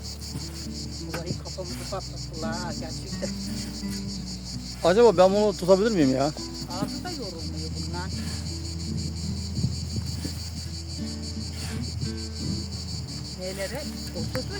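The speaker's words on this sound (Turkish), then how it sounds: "Ya amma ötüyor bu Ağustos böcekleri be." A steady, high-pitched cicada drone runs throughout in mountain oak country, with a brief voice speaking Turkish midway and some low outdoor background noise.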